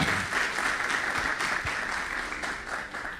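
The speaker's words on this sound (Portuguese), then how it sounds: "Palmas para o amigo Luiz Fernando Vaz." A seated audience at an evening talk in Belém, Pará, breaks into steady applause that holds at an even level for several seconds, with no voice over it.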